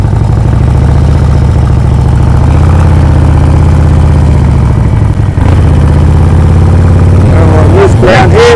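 Motorcycle engine running steadily and close, pulling away in gear from a stop on loose ground, with a continuous low drone that shifts slightly in pitch as it moves forward.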